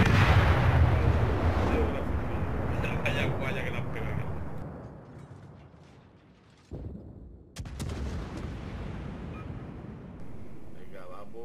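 Naval guns fire in World of Warships aboard the French cruiser La Galissonnière: a heavy booming salvo rolls out and fades, then sharper reports follow, with players talking over the sound.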